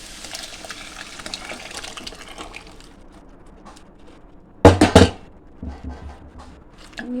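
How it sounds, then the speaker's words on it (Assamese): Boiled dal is poured into a pan in a traditional Assamese village-style kitchen, giving two short, loud liquid gushes and splashes that stand out from a quieter background of low rustling. "এতিয়া দালিখিনি ইয়াতে ধুনীয়াকৈ দি দিম বইল কৰি থোৱা দালিখিনি"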